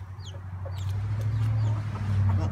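Chickens cluck in their pen, several soft calls rising and falling close by over a steady low hum, with no voices.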